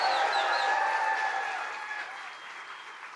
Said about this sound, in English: let's give a round of applause for Mike Rogers